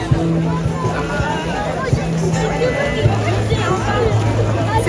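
A dense crowd gathered in Paris to see the Olympic torch makes a continuous babble of overlapping voices, close and steady, with a low hum running underneath.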